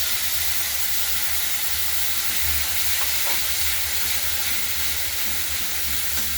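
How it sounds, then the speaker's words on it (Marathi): Spice masala sizzling in oil over low heat in a village-style Maharashtrian kitchen, a steady dense hiss and crackle that runs unbroken and close throughout, with no talking. "कमी गॅस करून 2 मिनिटं मसाला छान परतून घ्यायचा तेलामध्ये"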